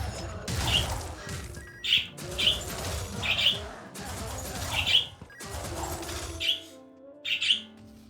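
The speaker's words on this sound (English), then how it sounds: "what's going on with the birds right now is that it's early in the day" Early-morning birdsong in the action game Wizard of Legend: repeated short, bright chirps every second or so, sitting over thumping and crashing combat sounds, with no talk.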